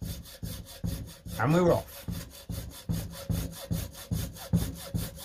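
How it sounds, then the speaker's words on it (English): A hacksaw cuts through a plastic clothing security tag held in a heavy vise, steady rhythmic back-and-forth strokes, close and clear, with a brief spoken remark near the start. "Here's my hacksaw. And lovely. Look, I can just get that. I can almost rest that on the top of the vise to get that going."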